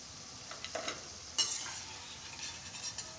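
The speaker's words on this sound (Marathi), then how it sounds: "हे बघा मक्याचे पकोडे छान आता आपले तळूनसुद्धा झालेले आहेत." Corn pakoras fried in hot oil for a Maharashtrian veg thali, giving a quiet, steady sizzle with soft stirring clinks and one sharper scrape partway through, with no talking.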